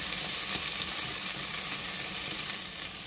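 Garlic and tomato sautéing in a pan for squid sotanghon guisado, giving a steady, close, continuous sizzle of frying with no voices.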